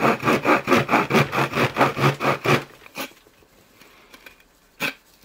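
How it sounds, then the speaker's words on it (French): A Victorinox Swiss Army knife saw blade cuts through wood in about ten quick, even back-and-forth rasping strokes. The sawing is close and loud, then stops, followed by a few soft knocks and handling sounds. "Voici la lame de scie de chez Victorinox."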